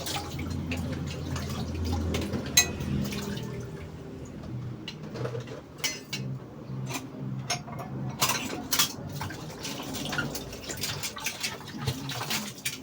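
Water splashes and drips while a metal frying pan knocks and scrapes, an irregular rinsing clatter up close.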